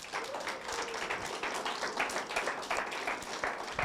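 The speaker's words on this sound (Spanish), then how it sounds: "Ahora dale un aplauso a Dios en fe." A church congregation claps together during a Spanish-language sermon. The clapping is soft and distant, with a choppy, uneven rhythm that continues throughout.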